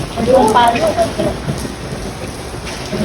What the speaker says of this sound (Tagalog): So naulan po siya.